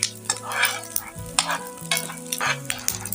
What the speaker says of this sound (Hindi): बिल्कुल हल्की आंच पे आपने इसको फ्राई करना है